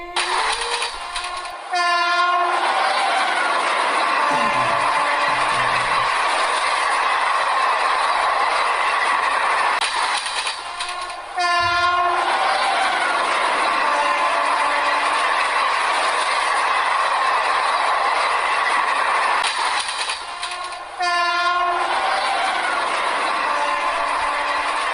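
Cartoon train sound effect: a steady rumbling run of a train with three loud, sustained horn blasts spaced about ten seconds apart, no voices.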